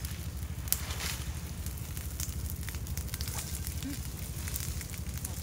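A strong fire burns with a steady, low roar and scattered soft crackles and pops, fairly quiet and continuous with no voices over it.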